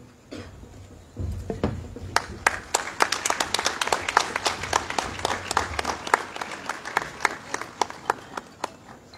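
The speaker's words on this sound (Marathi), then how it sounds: "पाळक साहेबांचं स्वागत आपण टाळ्या वाजवून करूया" An audience bursts into applause to welcome a pastor onto the stage: after a brief quiet start, many hands clap together in a dense, steady, fairly loud run of crisp claps.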